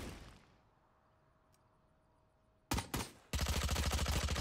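A video game shooter stays quiet at first, then a couple of sharp shots crack out and a loud, rapid burst of automatic gunfire follows close up.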